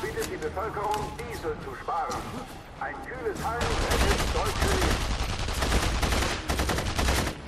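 Rapid gunfire in the video game Saboteur, bursts of shots under someone talking in German, growing into dense, loud continuous fire with booms over the second half.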